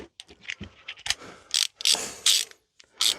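A ratchet wrench clicks in quick irregular bursts while a bolt is loosened on the rear axle carrier of a Mini Cooper S convertible, close and fairly loud, with brief pauses between strokes.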